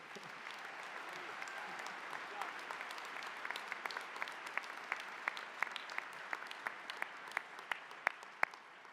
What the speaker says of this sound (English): give yourselves a round of applause, class of 2023